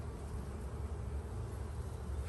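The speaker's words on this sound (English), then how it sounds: "Full of bees." Bees from a late-season swarm catch hum inside a hive box, producing a steady, close buzzing with a low, full drone that holds without pause.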